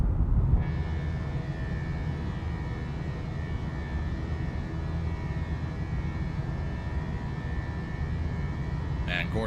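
Fenix A320 airliner engines in flight in Microsoft Flight Simulator, a steady broadband roar with a faint whining tone running continuously throughout.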